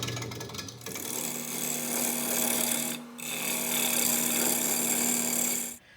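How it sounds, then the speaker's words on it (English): Half-inch bowl gouge cutting an off-centre wooden plant pot spinning on a lathe, a steady close humming drone with rough scraping texture, briefly dipping midway before continuing and stopping at the end, with no talk. "I'm using my 1/2-inch bowl gouge and I'm going to be turning this a little rounder"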